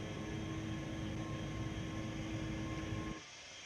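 Jet engines of an Airbus A320neo in the X-Plane 12 flight simulator, a steady broadband roar with a faint whine that cuts off sharply near the end, leaving a quieter hum.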